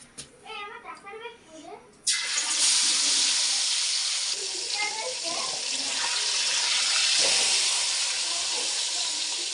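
Rupchanda (pomfret) fish dropped into hot oil: a sudden loud sizzle bursts out and keeps hissing steadily, with a voice talking briefly just before the fish goes in and faint speech over the frying.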